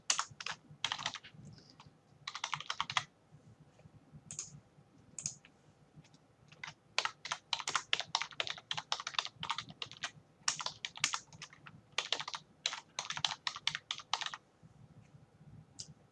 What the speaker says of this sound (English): you can again simply type in your search